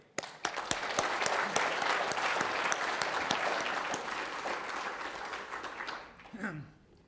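Audience applause welcoming a speaker named David at a dinner, a steady burst of clapping from a crowd that fills the room, then tapers off near the end.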